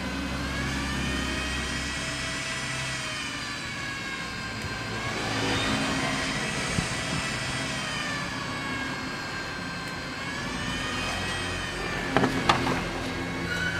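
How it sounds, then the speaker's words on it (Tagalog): A motorized blower on an automatic cooling fan hums with a high whine that swells and dips in pitch as the fan revs up and eases, continuous throughout. "Yan, pipigaan ko, tutulin yung blower niya."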